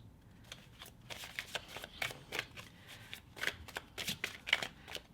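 Tarot cards are shuffled by hand in quick repeated riffles and flutters, close and fairly soft, with a few cards slipping loose and landing as the shuffle goes on.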